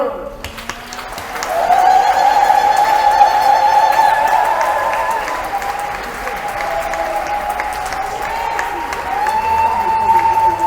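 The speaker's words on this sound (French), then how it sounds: "nous allons donc y entrer en acclamant, je veux dire en applaudissant" Church congregation at a Catholic gathering applauds and cheers to acclaim the Holy Spirit, with a sustained, steady burst of clapping and shouting that swells after a brief start and holds for about ten seconds, with a sustained singing or shouting voice riding on top.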